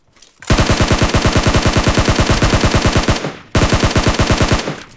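Automatic weapon fire in PUBG Mobile on the Erangel map: two long, loud, rapid bursts of evenly spaced shots, separated by a brief pause, with no voices.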